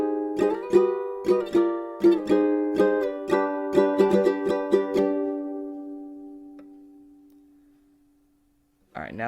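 Ukulele strummed quickly in a down-up pattern for a One Piece song, a run of bright, even chord strokes that ring out and fade, close up, followed by a brief bit of speech at the end.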